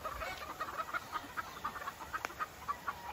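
Hens on a farm cluck softly in a steady, repeated pattern of short clucks, faint and slightly distant, with one sharp click partway through.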